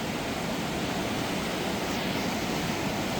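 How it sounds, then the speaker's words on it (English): High, fast river water rushes over bedrock near Hatcher Pass, Alaska, a dense, loud, unbroken roar that fills the whole clip. "that water is raging through here"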